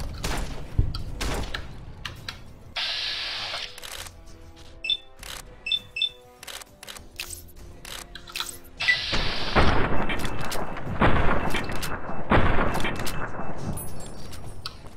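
Gunfire from a critical headshot in Fallout New Vegas, with sharp repeated shots and booms in bursts, denser and louder toward the end, over game ambience.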